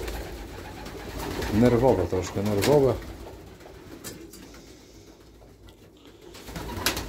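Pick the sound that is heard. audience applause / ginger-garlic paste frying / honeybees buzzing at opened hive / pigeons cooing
pigeons cooing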